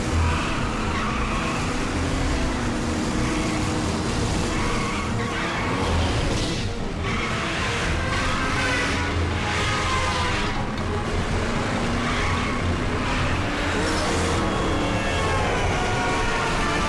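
Road traffic with cars driving past in a Transformers Robots in Disguise cartoon scene, a steady dense rumble of engines and tyre noise running throughout with no talk.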